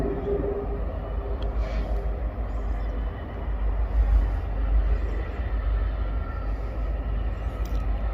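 A southbound Norfolk Southern freight train rumbles past in Birmingham behind an SD40N long nose locomotive, a steady loud low roar of engine and rolling cars with no talk.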